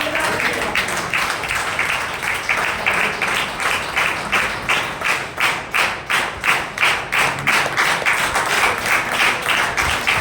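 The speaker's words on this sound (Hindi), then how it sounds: "एक बार जोरदार तालियां होनी चाहिए" Audience applause at a motivational business meeting, loud sustained clapping from a large crowd with a rhythmic, pulsing quality in the middle as hands fall into unison, running throughout with no clear talk over it.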